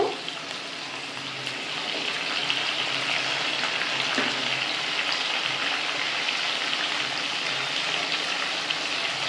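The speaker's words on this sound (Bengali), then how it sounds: "এবার আমি নুন আর হলুদ দিয়ে আলুগুলোকে ভালো করে লাল করে ভাজবো।" Potatoes frying in oil with salt and turmeric give off an even, unbroken hiss that holds steady throughout, close by and with no voices.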